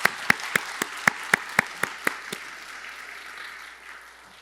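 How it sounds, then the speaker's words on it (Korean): A church congregation claps for the orchestra and choir, opening with about ten sharp, evenly spaced claps that blend into a softer ripple of applause, which fades out. "우리 이 시간 오케스트라 또 성가대에게 박수로 좀 응원해 주시면 감사하겠습니다"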